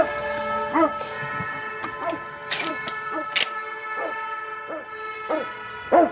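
A Rottweiler gives a series of short barks at intervals over a steady background hum inside a house, with brief clicks and knocks in between.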